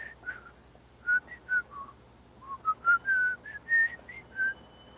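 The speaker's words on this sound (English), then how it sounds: "I whistle." A person whistles a cheerful, wandering tune of short and held notes, moderately close, over a faint steady background hum.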